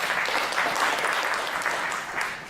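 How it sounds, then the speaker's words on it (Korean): Seminar audience applause at a foundation's anniversary event, a short burst of steady, fairly loud clapping that holds for the whole moment. "박수 한번 주십시오."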